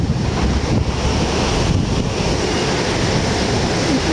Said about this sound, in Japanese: 波もいい感じに割れる波入ってないですね